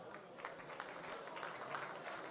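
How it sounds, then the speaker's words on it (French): Applause from the audience at a festival awards ceremony, a soft, fairly distant wash of clapping that stays even for a couple of seconds without speech. "je vais demander à Gwenaël Lebaudic de me rejoindre sur scène sous vos applaudissements"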